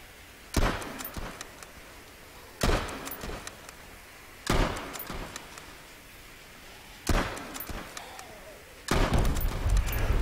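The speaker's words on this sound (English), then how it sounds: "I'm gonna blow up this biofuel." Five sharp booms ring out in a zombie video game as biofuel is blown up, each blast striking suddenly and then fading over a couple of seconds, spaced roughly two seconds apart.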